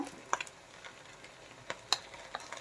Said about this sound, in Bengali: এখন আমি দিয়ে দিচ্ছি এখানে দেড় টেবিল চামচ মতো রসুন বাটা দেড় টেবিল চামচ আদা বাটা